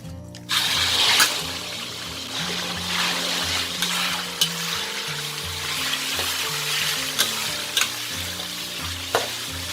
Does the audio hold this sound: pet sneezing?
no